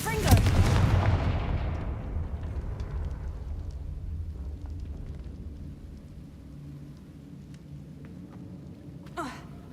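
Confringo blasting curse from the Hogwarts Legacy video game: a loud booming blast at the start that rolls off into a long rumbling decay, with a faint sharp whoosh near the end.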